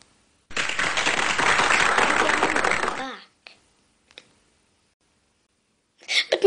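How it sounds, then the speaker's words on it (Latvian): A burst of applause from a group, steady and dense for about two and a half seconds before fading out, followed by a few faint isolated clicks and a short rustle near the end. "No sākuma es gribu aplausus."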